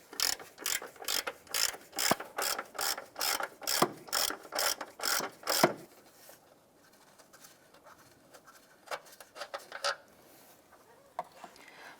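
A hand ratchet loosens a transmission mount bolt on a 2001-2005 Honda Civic in a rapid run of about a dozen loud, close clicking strokes, followed by quieter scattered clicks and handling noise, with birds faintly audible.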